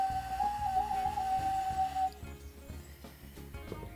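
A handmade clay mermaid ocarina whistle gives a thin, wavering tone that warbles steadily for about two seconds, then cuts off, leaving soft rustling and faint clicks.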